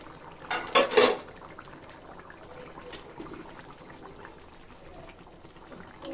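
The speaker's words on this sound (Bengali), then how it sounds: "এখন আমি ঢাকনাটা খুলে দেখবো যে মাছগুলো যে অবস্থা আছে।" A lid is lifted off a pan of small hilsa fish cooking on the stove, with a brief metallic clatter and rush near the start, followed by a quiet, low simmering.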